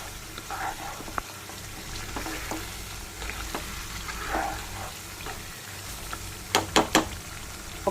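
Tender tamarind leaves hit a pan of mutton curry with a soft, continuous sizzle and bubbling, joined by scattered scrapes of stirring and a quick run of sharp utensil clinks near the end.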